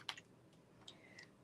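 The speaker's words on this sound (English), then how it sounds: "Let's type Romeo Wednesday" Typing on a computer keyboard, a few sparse, light key clicks close by and very quiet, with no talking.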